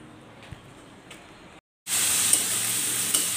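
Bitter gourd frying in a pan in a home kitchen, a faint hiss at first, a brief gap, then a loud, steady close sizzle that carries on to the end.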